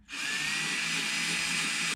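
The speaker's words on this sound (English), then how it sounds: "I'm just gonna drill a hole straight through here in the bracket, and I'll just bolt it down." A power drill bores a hole through a metal door bracket on an E36 BMW M3, one steady high whine lasting under two seconds with an abrupt start and stop.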